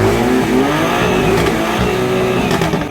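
Sports car engine revving hard and close, a loud continuous roar with rising and falling pitch sweeps throughout, with no speech over it.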